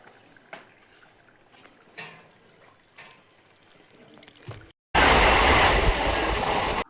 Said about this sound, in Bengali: তো এখন আমরা ট্রেনে উঠে গেছি।